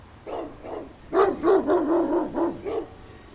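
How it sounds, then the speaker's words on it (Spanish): Several stray dogs bark from a pack, giving two short barks and then a rapid, loud run of overlapping barks up close, with no talk. "vi lo que parecía ser una jauría de 10 perros callejeros, quienes venían igual de furiosos que Max."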